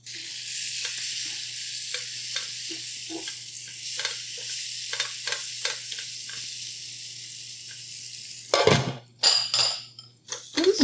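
Spinach sautéing in butter in a pan, a soft steady sizzle with intermittent utensil taps and stirring, ending in louder metallic clatter of pan and lid handling; no talking.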